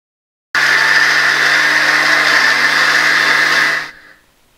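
Mixer grinder running steadily, grinding soaked rice with grated coconut, cooked rice and dried yeast into a smooth batter; a loud, even whine starts abruptly, holds for about three seconds, then cuts off and winds down.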